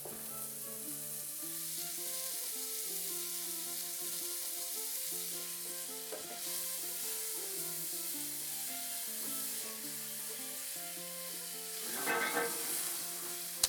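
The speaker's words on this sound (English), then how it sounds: "I'm gonna go ahead and brown these in a little bit of suet." Meatballs brown in a little suet, giving a steady sizzle with occasional stirring clatter beneath prominent background music, with a brief louder burst of spatter near the end.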